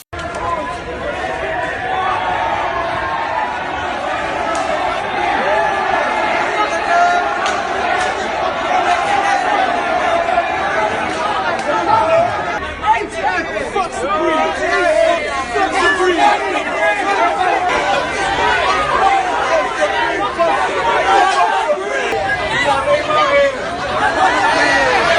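A large crowd packed onto a New York City block, a loud, continuous roar of many overlapping voices and shouts that swells and churns throughout, sounding close and dense.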